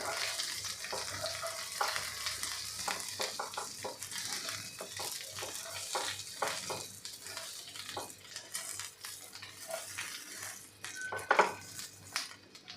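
Stuffed okra masala being stirred in a pan, with repeated soft scraping and clinking of a spoon against metal over a faint sizzle, and a brief sharper clank near the end.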